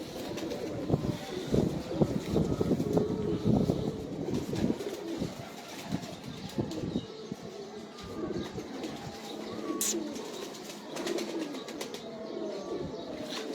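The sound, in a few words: pigeons cooing on rooftop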